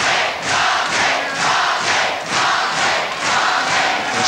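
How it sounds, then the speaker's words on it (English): A large crowd at a 1984 British professional wrestling bout roars and cheers loudly, the noise swelling in rhythmic waves like a chant, filling the arena without a break. "the great crowd here really enjoying every minute of it"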